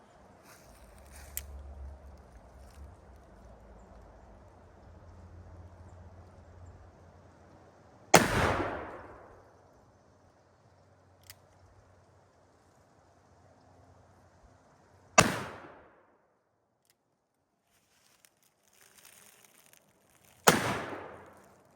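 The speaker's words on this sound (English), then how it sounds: "Cap went off, bullet didn't. Misfired the second one." A Colt 1860 Army cap-and-ball revolver firing Kerr bullets at an outdoor range, three loud sharp reports spaced several seconds apart, each ringing out briefly over near silence, with soft speech in the gaps.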